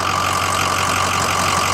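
A 2005 Ford F250 Super Duty with a Powerstroke diesel engine runs steadily at idle, a continuous low rumble with a faint whine, loud and close with no talk.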